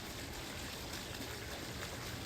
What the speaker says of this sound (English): In the middle of the woods, you get this nice waterfall.